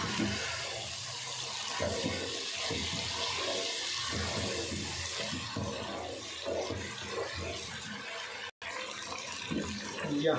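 Goat trotter stock (yakhni) pours steadily into a cooking pot for mutton paye, a continuous close watery splashing and trickling that runs about ten seconds with one brief break near the end.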